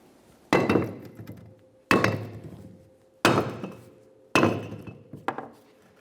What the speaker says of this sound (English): We'll use a rubber mallet to separate these two parts by gently tapping on the braking surface of the brake rotor.